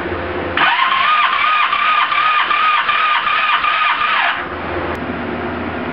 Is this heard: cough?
no